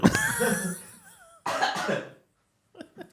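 A person clears their throat with a rough, raspy cough, then a second shorter burst, followed by a couple of faint soft sounds.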